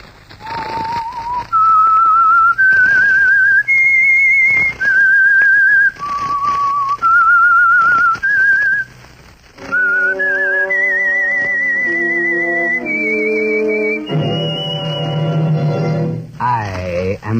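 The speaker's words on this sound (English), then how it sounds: "That whistle, the Whistler." A lone whistler carries the melodic theme of The Whistler radio drama, clear and loud in sustained stepwise notes, before instrumental music with held chords takes over.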